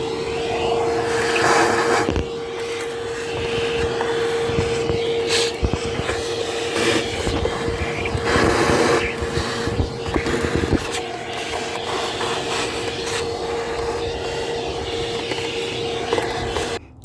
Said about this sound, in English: now I'm about to vacuum it